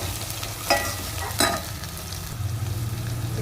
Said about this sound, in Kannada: ಒಗ್ಗರಣೆಗೆ ಈರುಳ್ಳಿ ಹಾಕ್ತಿದ್ದೀನಿ